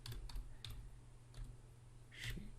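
A few soft, scattered clicks of computer keyboard keys being typed, faint and irregular over a low steady hum, with a small burst near the end.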